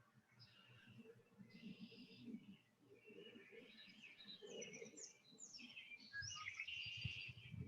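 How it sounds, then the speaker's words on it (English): Several birds chirp and tweet in quick, overlapping calls, faint and somewhat distant, continuing steadily throughout with no talking. "I can hear the birds."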